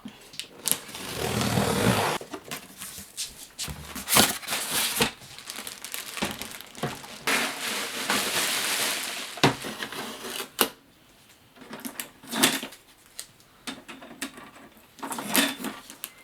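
Plastic and cardboard packaging crinkling and rustling while an Epson ET-2720 inkjet printer is unboxed, in irregular close bursts of crackle and tearing with short quiet gaps between.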